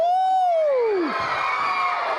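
Crowd at a high school boys basketball game, the St. Teresa team at the state tournament, lets out a long falling whoop that swells into a steady, loud roar of cheering and shouting.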